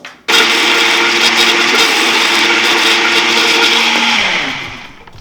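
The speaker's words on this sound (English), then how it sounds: "Now we're gonna blend it." A blender whirs loudly blending vegan crepe batter, starting abruptly, running at a steady high-pitched roar for about four seconds, then winding down as the motor is switched off.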